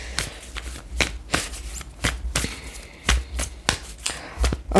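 Fortune-telling cards are shuffled and laid out in quick, crisp, riffling flicks and slaps, close and fairly loud, in an irregular rhythm with no talking.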